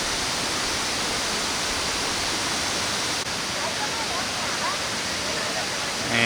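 Kuang Si waterfall in Laos, running low just after the dry season, roars as a dense, steady rush of falling water, loud and unbroken throughout.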